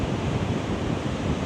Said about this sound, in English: One last glimpse of the ocean here.